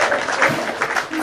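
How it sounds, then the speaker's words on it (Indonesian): Short burst of crowd applause for God during an Indonesian-language talk, brisk and fairly close, lasting only a moment. "tepuk tangan buat Tuhan."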